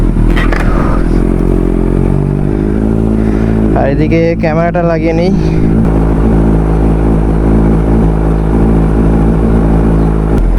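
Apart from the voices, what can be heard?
motorcycle cold start and idling, Yamaha R15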